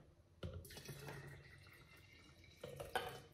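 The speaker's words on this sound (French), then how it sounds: "Je vais rajouter de l'eau." Water trickles and drips into a blender holding fruit juice made from frozen fruit. The pouring is faint and close, with a few brief splashy surges.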